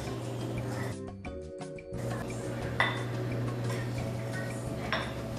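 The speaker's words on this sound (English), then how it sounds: "Now I just have to whisk this." Cupcake batter is whisked by hand in a bowl, giving light clinks and scrapes of metal against the bowl over a steady low hum, with a short quieter gap near the start.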